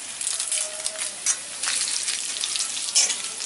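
Garlic with whole spices, cinnamon, cloves, black peppercorns and a bay leaf, sizzling steadily in hot oil in a pan, close and constant with occasional stirring, no talk.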